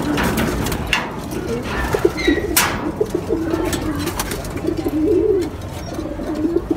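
Pigeons coo steadily in a loft on a pigeon farm, their low rolling calls repeating close by, with a few faint clicks and a brief stretch of speech mixed in.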